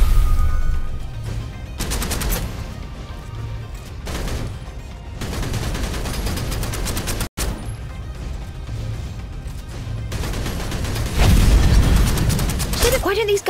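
Guns firing in the video game Snowbreak: loud repeated bursts and bangs come in waves, with crashes and mechanical clatter, mixed with game sound and voices.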